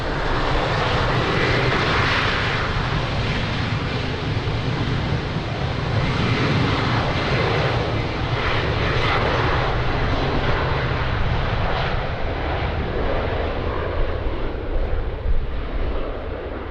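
A jet airliner takes off at Lisbon Airport, its engines producing a loud, steady broadband roar that holds for the whole stretch with no talk over it.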